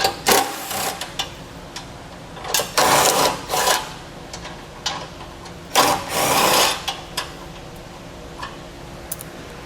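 Three 13mm nuts being removed from the driver's side of the bumper beam on a 2016 Nissan, heard as short, loud, rattling bursts from a power tool with quiet pauses between them.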